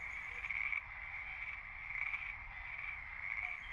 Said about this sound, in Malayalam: ഇത് നമ്മുടെ പോക്കാച്ചി തവള എന്ന് പറയുന്ന ഇന്ത്യൻ ബുൾഫ്രോഗ് എന്ന് പറയുന്ന തവളയുടെ കുട്ടിയാണ്